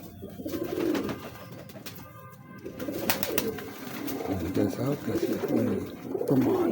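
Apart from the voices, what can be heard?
pigeons cooing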